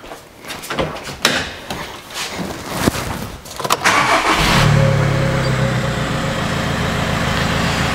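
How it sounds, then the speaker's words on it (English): Starting a 2009 Audi A3 diesel: a few close knocks and handling clatter, then the engine cranks and catches into a loud, steady diesel idle that runs on to the end. "So let's start the engine."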